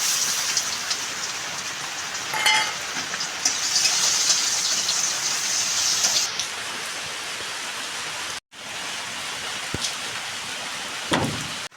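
Sliced onion frying in oil with dried red chillies gives a dense, rain-like sizzle that stays loud and steady, with a few stirring knocks and a brief dip partway through.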